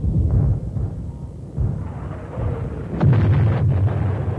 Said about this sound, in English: An intense barrage of mortar rounds hit the base.